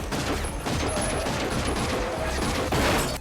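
Gunfire burst in an action film heist scene, a dense continuous rattle of rapid shots over loud music and effects throughout, with narration mixed in.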